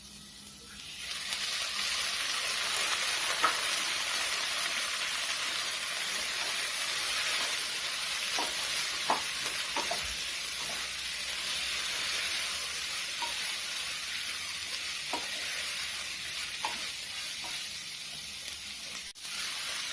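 Two chopped tomatoes dropped into hot oil with ginger garlic paste for a Tamil vada curry: a steady, close sizzle that hisses throughout, with occasional light clicks of stirring.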